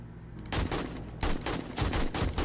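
Rapid bursts of machine gun fire in the zombie survival game 7 Days to Die, loud and close, with several short volleys separated by brief pauses and no talk.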